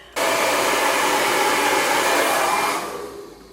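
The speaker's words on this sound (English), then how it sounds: "so that's the direction you're going to blow dry." A hair dryer switches on and blows steadily at close range while short hair is blow-dried, a loud continuous rushing whoosh that fades at the end, with no talk.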